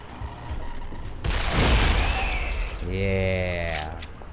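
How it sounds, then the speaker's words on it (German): A sudden booming explosion in the video game Dead Island bursts in with a noisy crackling tail, followed by a shout as the roar fades. "Da steht einer, der explodiert!"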